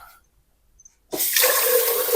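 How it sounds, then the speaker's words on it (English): Water runs into a cup, starting abruptly after a near-silent pause and continuing as a steady, loud splashing pour close by. "All right, let's get the water."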